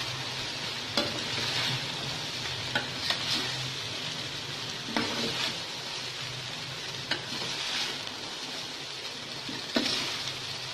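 Vegetables are stirred through sizzling oil in a pan for cheese chicken fried rice. A spatula scrapes in short, repeated strokes every second or two over a constant close fry, and no one speaks.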